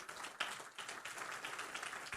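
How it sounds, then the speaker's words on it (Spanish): A church congregation claps together during a sermon. The applause is faint and distant and holds steady for a couple of seconds, with one slightly sharper clap near the start. "denle un aplauso"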